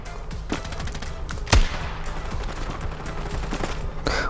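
Famas rifle gunfire in the mobile shooter Standoff 2, with one sharp loud shot standing out over a scattered stream of fainter in-game shots and clatter across the mix.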